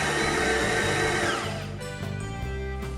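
An electric mixer whirs loudly while mixing doughnut dough with flour, a steady high motor whine that drops in pitch and strains as the dough thickens, running alone throughout.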